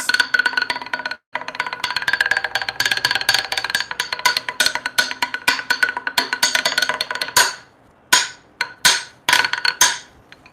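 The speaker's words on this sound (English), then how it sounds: "Dowel drum roll right there." Wooden dowels tapped rapidly in a workshop, a dense, loud drum-roll patter of sharp clicks that runs steadily for several seconds before breaking into a few separate, spaced knocks at the end.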